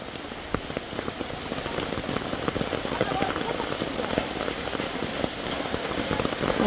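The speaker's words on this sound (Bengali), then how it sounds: "বৃষ্টিটা এমন সময় নামতে হইব এমন কোনো কথা আছে?" Steady rain pattering on a hard surface, with dense, close drops throughout and people talking faintly beneath it.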